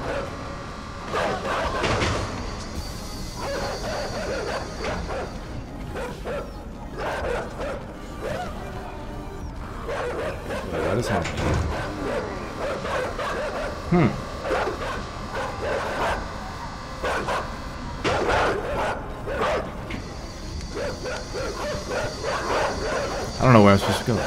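Dogs in the video game Inside bark in scattered bursts among mechanical creaks and crashes, heard under a player talking.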